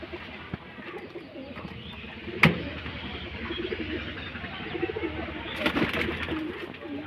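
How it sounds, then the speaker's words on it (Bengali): Pigeons softly coo inside a home pigeon coop holding a red hen and young squabs, with faint low calls, a few rustles and one sharp knock against steady background noise. "এই দেখেন আমার লাল একটা মাদি কবুতর"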